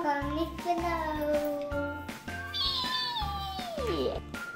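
A cat meows several times in a row, close and fairly loud, the last call sliding downward, while someone talks over and between the calls.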